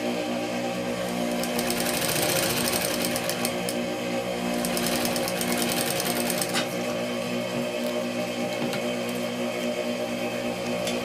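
Sewing machine stitching a seam with a short backstitch at the start, a steady loud mechanical whir running continuously and alone, with brief rises in intensity mid-run.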